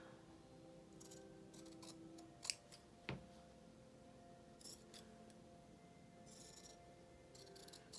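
Scissors trimming fabric around a narrow burgundy border, a few faint crisp snips spaced irregularly over a quiet background, no speech.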